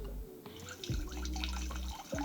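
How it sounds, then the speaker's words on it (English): Water pours and splashes in a continuous stream as a sound effect for sinks or kitchen features, quiet and close, with small drips and gurgles. "water pouring"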